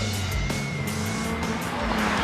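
Twin-engine car with 800 horsepower, two 400 horsepower engines, driving hard, a loud continuous engine roar with rising and falling tones, close and unbroken.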